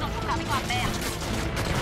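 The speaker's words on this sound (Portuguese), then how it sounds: "Tá, eu tô levando tiro pra cacete, não sei da onde." Bursts of gunfire aimed at the player in the video game Just Cause 3, dense crackling shots running continuously under game noise with a voice partly audible.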